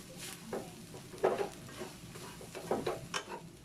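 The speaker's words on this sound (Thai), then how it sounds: "เราต้อง ยีไข่ให้มันเละๆในข้าวแบบนี้เลย" Kimchi fried rice being stirred and mashed with egg in a hot pan, a few scraping stirs bursting out over a soft, steady sizzle, no talk.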